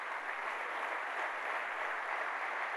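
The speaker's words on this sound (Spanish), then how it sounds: "Den un fuerte aplauso a Jesucristo entonces." A church congregation gives sustained applause during a Sunday night service, a dense, even wash of many hands clapping that holds steady from start to finish without voices.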